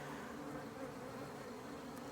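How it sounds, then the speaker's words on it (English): Many bees hum as a steady, faint, continuous drone from a backyard beehive, with nothing else standing out. "And I have a lot of bees in this yard."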